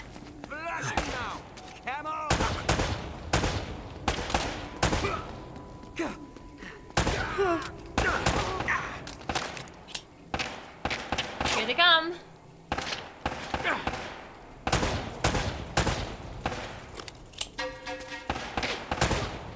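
Repeated bursts of gunfire in Uncharted: Drake's Fortune, an action video game, crack loudly at close range in irregular volleys, with clipped shots and impacts and a voice talking over parts of the fighting.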